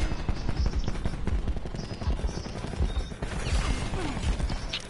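Dense, continuous automatic gunfire fills a Black Ops 4 multiplayer match, with rapid overlapping shots and mechanical clatter at a steady loud level throughout. No one speaks over it.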